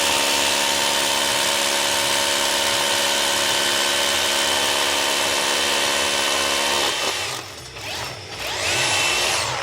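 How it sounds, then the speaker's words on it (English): A Bosch hammer drill runs loud and steady with a harsh rapid rattling for several seconds, then slows and stops with a few short bursts. "So I'll show it to you drilling now on the hammer."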